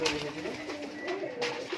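High-flying pigeons loose in a loft coo in a close, continuous murmur, the soft repeated calls rising and falling with a few brighter accents.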